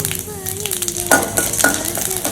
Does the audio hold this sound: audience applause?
no